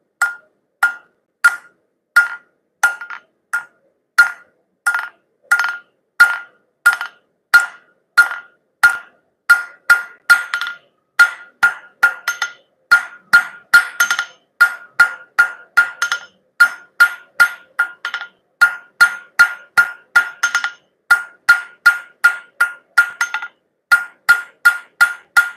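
Quarter-inch steel stock struck with a light hammer on an anvil while forging wrench bottle openers, a steady run of sharp ringing blows, roughly two per second, loud and close with no talk.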